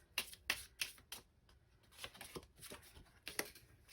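Tarot cards are shuffled and drawn near a soft mic, giving crisp riffling flicks and light slaps in quick clusters with brief gaps between them.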